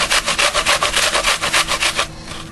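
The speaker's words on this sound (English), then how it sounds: "So I'm just going to go ahead and grate this apple in here." An apple being grated for pancake batter: rhythmic, rasping scrapes in quick back-and-forth strokes, about a dozen close and loud, fading out at the end, with no talking.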